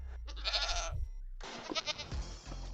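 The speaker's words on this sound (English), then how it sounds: "we now have unique goat sounds in Minecraft" Goat bleats from the Minecraft video game: a close, loud nasal bleat, a brief pause, then a second longer wavering bleat.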